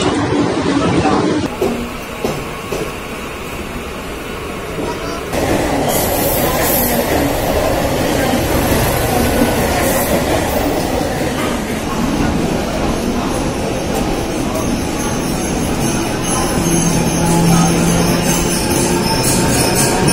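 A Mumbai local train runs with a loud, continuous rumble and rattle of wheels on rails and shaking carriages, heard from inside the coach, with a faint announcement near the start.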